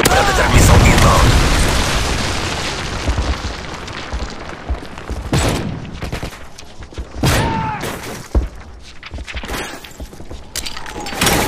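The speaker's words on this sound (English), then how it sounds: "Friendly Predator missile inbound." A heavy explosion rumbles at the start amid gunfire and booming from the video game Call of Duty MW3, with scattered shots and blasts following and a player talking underneath.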